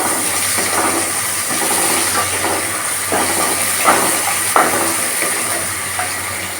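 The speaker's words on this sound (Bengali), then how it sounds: "এবার আমি এর মধ্যে দিয়ে দেবো পেঁয়াজ কুচি।" Chopped onion frying in a pan, a steady hissing sizzle with occasional soft scrapes of stirring, close and fairly loud, no speech.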